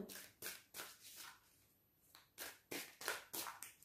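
Oracle cards being shuffled by hand for a tarot reading, in a series of quick papery riffling bursts separated by short pauses, close and fairly soft with no talking.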